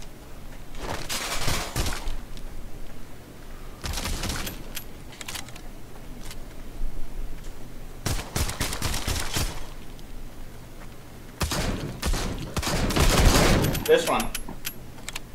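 A new gun fires in bursts of sharp shots during play in the VR zombie game Arizona Sunshine, with several clustered volleys and a few brief spoken words.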